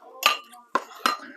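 A spoon stirs a risotto bake of cheese, basil, sausage and peas in a baking dish, making three sharp clinks against the dish with short scraping between them, close and alone.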